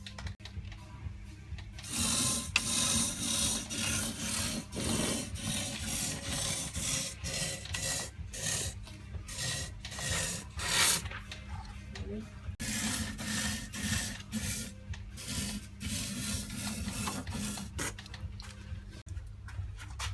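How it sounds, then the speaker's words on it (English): Cavity wax is sprayed in short, hissing bursts into the rear cavity of a BMW E46 M3 convertible, with brief gaps and some scraping between sprays. "Now we're onto the rear cavity, using the holes, and we're going to get the low level"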